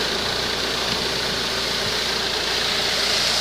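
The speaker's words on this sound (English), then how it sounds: "to let the engine to work until it reaches working temperature." A Citroen C-Elysee 1.6 HDi diesel engine idling during a timing belt replacement, a steady, close, loud mechanical hum with a faint rhythmic knock, unchanging throughout.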